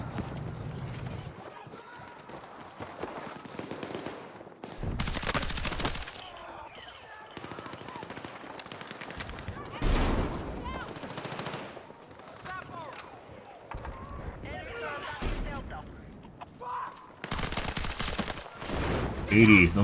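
Bursts of automatic gunfire from the video game Battlefield 6 come in several loud volleys with pauses between them, while a player talks over much of the shooting.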